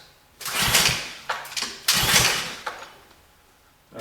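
An old engine on a forgotten machine cranks and tries to catch with the ignition on and choke pulled, giving loud rough bursts of cranking and sputtering that stop and start, close up, with no talk.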